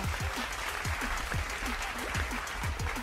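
A crowd applauds with steady, dense clapping throughout, loud and continuous.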